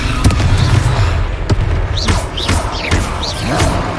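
Fire spell blasts from the Confringo charm in the Hogwarts Legacy video game, several booming thuds and whooshing bursts over a steady low rumble of combat, with shrill rising effects between impacts.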